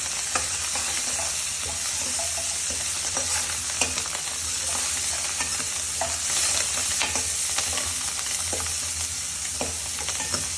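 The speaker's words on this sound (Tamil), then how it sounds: "வதங்கிட்டு இருக்கும்போதே நம்ம கொத்தமல்லியும் ஆட் பண்ணிப்போம்." Coriander with its stems sautés in a pan for a mint-coriander chutney, with a soft constant sizzle and repeated scraping stirs, close and unaccompanied by talk.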